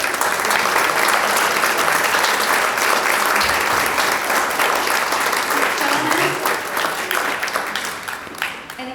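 Audience applause at a community program on preserving the Lyric Theater at the Stuart Heritage Museum, a dense, sustained crowd clapping throughout with some voices mixed in, tapering slightly near the end.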